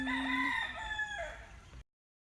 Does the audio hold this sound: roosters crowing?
yes